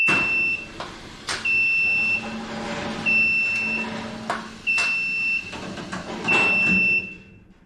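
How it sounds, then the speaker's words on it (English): A car lift's steady high-pitched electronic warning buzzer sounds in repeated short bursts, about five pulses with gaps between them, over a low mechanical hum and some clunks. "it will sound a buzzer so that if anyone's underneath it, they know they need to get out"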